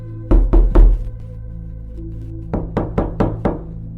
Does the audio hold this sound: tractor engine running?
no